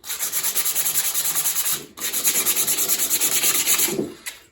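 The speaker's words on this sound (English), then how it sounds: "Get my handy dandy sandpaper." Sandpaper rubbed over wood by hand in quick, even back-and-forth strokes, a loud, close, rhythmic scratchy hiss with a brief pause midway before the strokes resume.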